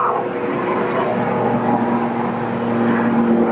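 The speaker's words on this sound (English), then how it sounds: "Not a helicopter all day. And now there's 2 while we're trying to make this video." A helicopter drones overhead with a steady, low engine hum that holds at an even loudness throughout.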